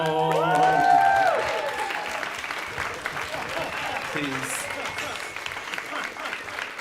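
An audience applauds after a reading at a marathon poetry event, steady clapping and a little cheering that swells early then settles into a sustained, slightly fading patter, with a voice speaking briefly over it.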